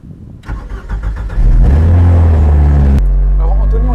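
The Alpine Celebration concept car sets off on the Montlhéry circuit. Its engine catches and rises into a loud, deep roar that holds steady, heard from on board with speech over the top.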